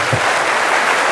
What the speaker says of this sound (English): Ladies and gentlemen, another big round of applause.